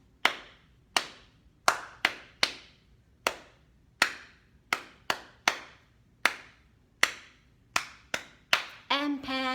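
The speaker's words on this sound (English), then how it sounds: "You clapped 5 times." Hands clap sharply about fifteen times at a steady, slightly uneven pace, each crisp clap ringing briefly in a quiet room, before a voice begins speaking at the end.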